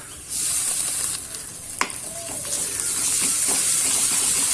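Onions with ginger garlic paste sizzle and hiss steadily in a hot pan, a loud close frying sound with a brief clink of stirring partway through, no voices.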